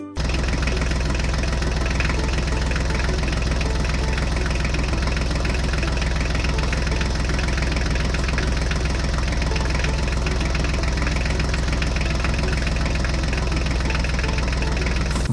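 A Mahindra tractor engine runs at a steady idle, with a constant low chugging knock that stays loud and unchanging throughout, with no speech.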